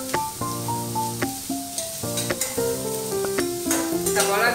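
Onion with green chili and a pinch of salt fries in a pan for a Spanish omelet, a steady sizzle running beneath melodic background music throughout.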